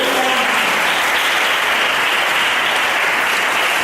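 A church congregation applauds during a Sunday service, steady dense clapping throughout, loud and close, with no talk over it.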